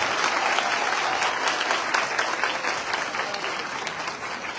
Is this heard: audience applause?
yes